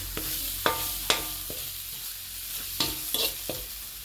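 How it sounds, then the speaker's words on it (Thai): Chili paste for frog salad is stir-fried in a pan, giving a quiet, steady sizzle broken by several sharp scrapes and taps of the spatula against the pan. "ผัดแค่พอหอมนะครับ"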